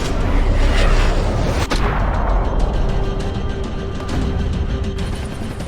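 Gunfire and heavy blasts in the video game Max Payne, a loud sustained roar of shots and booms with one sharp crack, dense and continuous, no speech.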